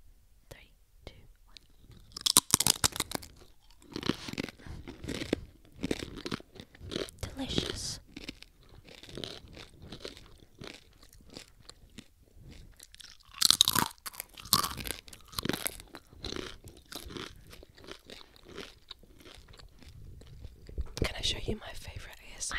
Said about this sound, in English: give me a cracker. We'll eat at the same time.